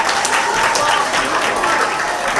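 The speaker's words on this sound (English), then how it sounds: "You can give a round of applause for Mr." Audience at a children's ball in a city hall gives a brief burst of applause, dense and loud clapping that stays steady from start to finish.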